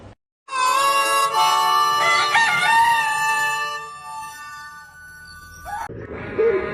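A rooster crows loudly and close up in a long drawn-out call, followed by a shorter, quieter clucking sound at the end.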